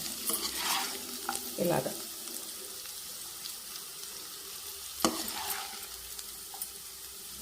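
Sliced okra fries in a pan with little oil, a soft steady sizzle broken by a few sharp scrapes and clinks of a spoon stirring the pieces, and a brief word spoken in passing.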